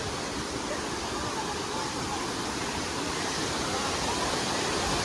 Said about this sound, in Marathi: आणि हा वॉटरफॉल आहे वरसगावचा. बघा किती सुंदर वॉटरफॉल आहे.